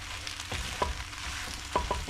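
Noodles coated in sauce fry in a pan with a steady, close sizzle, broken by a few light scrapes and clacks of stirring.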